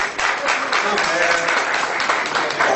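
Audience applause in a hall, steady dense clapping with a talker's voice running over it throughout.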